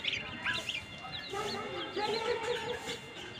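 Chickens and chicks clucking and peeping in a backyard poultry pen alongside ducks, with a rooster present; a busy, continuous chatter of small calls at close range under background voices.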